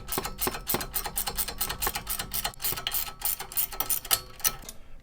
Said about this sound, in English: we'll use the ratcheting combo wrench